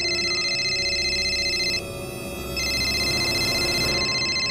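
A telephone rings with a steady electronic warble, one long ring, a brief gap, then the ringing resumes, loud and close over a low background hum, no talk.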